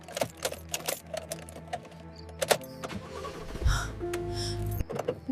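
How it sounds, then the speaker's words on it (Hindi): A car engine cranks and fails to catch on a deserted road at night, giving a low rough churning burst that lasts about a second against background music. "गाड़ी तो स्टार्ट ही नहीं हो रही।"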